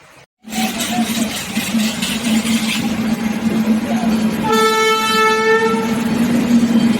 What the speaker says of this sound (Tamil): நமக்கு ஏற்றாப்பட கிராஸ் பண்ணிட்டு இருக்கிறது இந்த வண்டினா காரைக்குடி சென்னை பல்லாவன் எக்ஸ்பிரஸ்